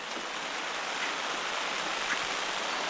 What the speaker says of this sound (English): down comes the rain again.